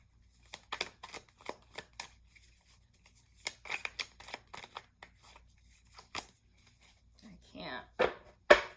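Sharp scissor snips cutting through paper or card, a quick series of crisp cuts close up with pauses between, ending in a brief rustle and tearing sound.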